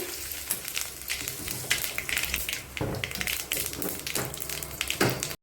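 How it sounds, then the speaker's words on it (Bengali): Cumin seeds crackle and sizzle in hot mustard-style fish frying oil, a dense continuous spitting hiss with sharper pops throughout, close and steady. "মাছের তেলের ভিতরে দিয়ে দিলাম ফোড়নে জিরে"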